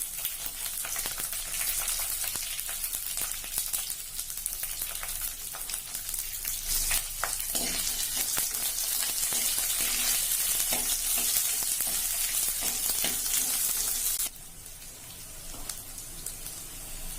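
Onions, curry leaves and green chillies fry in oil for bitter gourd sambar, a close, steady crackling sizzle with occasional stirring scrapes, dropping slightly in level near the end.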